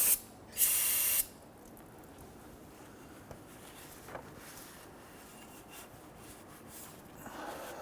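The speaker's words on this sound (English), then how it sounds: "We're using some spray solvent. We're just going to clean up the residual oil here." Aerosol solvent sprayed to clean residual engine oil off a 2005-2021 Nissan Frontier near the oil cooler: a short hiss at the very start, then a louder, steady spray burst of about half a second, followed by faint rubbing and handling noises.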